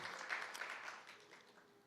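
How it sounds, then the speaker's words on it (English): Applause for youth program counselors at a parent meeting, a faint, steady patter of clapping from a modest crowd that fades slightly toward the end. "Let's give them a huge round of applause"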